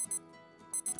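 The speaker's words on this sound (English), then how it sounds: "And there's my alarm." Alarm clock ringing in the visual novel game Balance of Power, quick repeated electronic beeps in short bursts with brief gaps, clear and alone.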